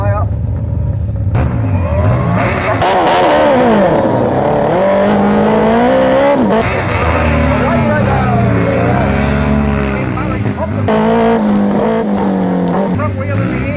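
Sidecar racing motorcycles roar around the Oceanview Speedway track, engines loud and close with rising and falling revs throughout, while a commentator talks over the noise.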